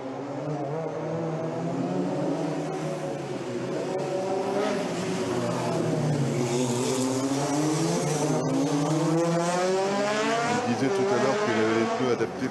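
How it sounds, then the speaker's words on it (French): A race car at the Circuit des Remparts 2017 warms its tyres by weaving figure eights on the straight, its engine rising and falling in pitch throughout, with a commentator speaking over it. "Et Delage fait chauffer les pneus pendant ce temps-là, pratiquement en faisant des 8 sur la ligne droite."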